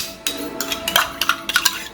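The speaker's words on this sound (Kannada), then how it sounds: "ಬರೀ 4 ಚಮಚ ಹಾಕಿ ತಿರುಗಿಸ್ಕೊಡಕತ್ತದ ನನಗೆ" A spoon clinks and scrapes around inside a bowl while stirring, giving a quick irregular series of light metallic taps and rattles, close and fairly clear.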